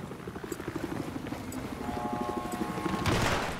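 Helicopter in Battlefield 4 on the Wavebreaker map during a Conquest match, its rotor chopping in a steady rhythmic pulse amid gunfire and other battle noise, swelling louder toward the end.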